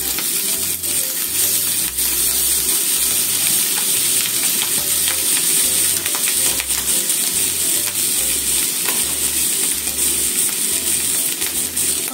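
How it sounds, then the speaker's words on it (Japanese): Cabbage and ham stir-fry in a pan with a loud, steady sizzle, broken by repeated scraping and clattering strokes of the utensil as the food is tossed. "あとは炒めます。"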